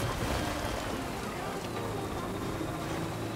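Steady rain falls continuously in the video game Death Stranding, a dense, even hiss with no voices over it.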